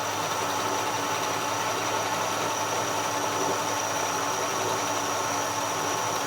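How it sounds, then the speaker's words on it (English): A 1956 Chevy engine idles at a steady, unbroken rumble with a faint whine on top, close and constant throughout, with no voices. "Turn the idle down just a little bit."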